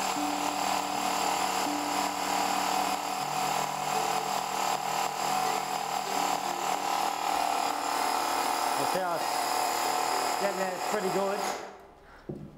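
A Graco Ultra QuickShot handheld paint sprayer runs steadily while pumping water through during cleaning, giving a loud, continuous mechanical buzz for about eleven seconds before it cuts off. A few faint handling noises follow.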